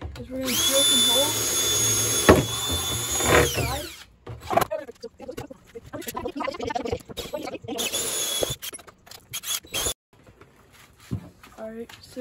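A power drill whines steadily for about four seconds, drilling holes in a plastic bucket, stopping and starting with short revs, then gives way to a person talking.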